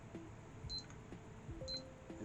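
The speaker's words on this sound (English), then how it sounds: "It's beeping at me." PC power supply tester giving a few short, faint electronic beeps spaced irregularly over a quiet room hiss.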